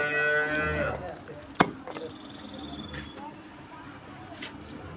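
A Jersey Friesian Cholistani cross cow gives one loud, close moo at the start, followed by a sharp knock and faint background calls on a farm.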